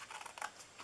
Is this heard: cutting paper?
yes